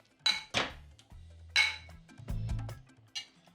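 A utensil knocks and scrapes against a bowl while cooked black-eyed peas are being mashed, giving a few sharp clinks and duller thuds spaced irregularly, close and moderately quiet, with no voices.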